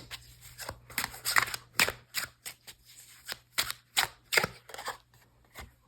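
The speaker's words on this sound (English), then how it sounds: "look at how I'm shuffling. I'm like throwing these cards." Tarot cards being shuffled and tossed by hand, a close, loud series of sharp riffling flicks and slaps in an irregular rhythm lasting several seconds, with brief quiet gaps between bursts and no speech.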